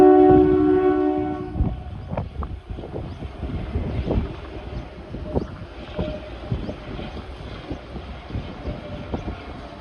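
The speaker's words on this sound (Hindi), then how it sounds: "ये है हमारा धर्मपुर का रेलवे स्टेशन" A train at Dharampur railway station, opening with a sustained horn blast, then rumbling wheels and rhythmic clanks of rolling carriages amid wind noise, moderately close with no voices.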